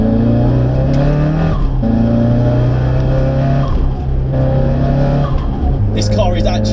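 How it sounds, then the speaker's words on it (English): A modified Toyota Starlet GT pulls hard in second gear, its engine roaring loudly up through the revs with a rising whine, close and dominant, while a voice talks over it. "So a little second gear pull for you."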